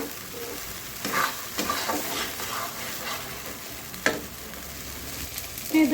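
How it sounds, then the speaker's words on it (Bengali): Chicken with masala spices frying in a pan, a steady close sizzle broken by several louder bursts of stirring and scraping over about six seconds, with no voices. "দু তিন মিনিট সুন্দর করে ভাজতে নিয়েছি চিকেনটার মশলাটা"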